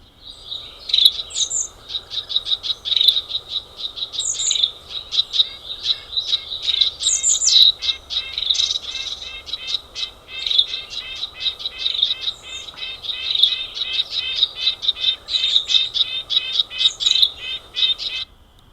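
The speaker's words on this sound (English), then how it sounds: "Mixed flock mobbing calls." Mixed flock of small birds giving mobbing calls, a dense run of sharp high chirps and scolding notes. The calls stay loud and steady throughout, close to the recorder, with a faint insect buzz underneath.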